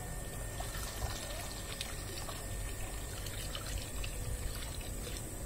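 Probiotic liquid poured into a tilapia biofloc pond makes a continuous splashing, trickling pour that holds steady and close for the whole stretch.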